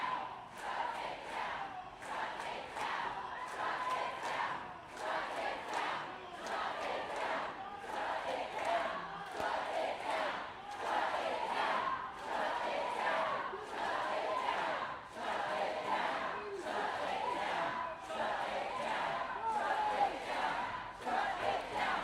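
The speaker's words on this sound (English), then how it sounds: "This is quite the crowd." A large outdoor protest crowd in Maine chants in a steady rhythmic cadence, the massed voices rising and falling with regular beats over the whole stretch, heard from some distance.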